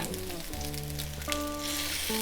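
Food sizzles steadily in a full skillet and is flipped with two spatulas, a continuous bright frying hiss underneath low tonal background music.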